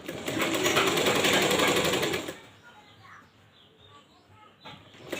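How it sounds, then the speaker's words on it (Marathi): Electric sewing machine stitching a blouse sleeve, a loud steady whirring run for about two seconds, then it stops and leaves quiet room sound with faint noises. "आता आपण दुसरी स्लीव स्टिच करणार आहे"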